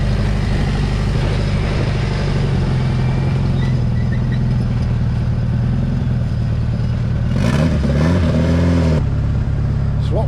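A sand rail's turbocharged Ecotech 2.2 liter engine, pushing about 400 horsepower, runs loud and close with a rough idle, then blips upward in a short rev before settling back.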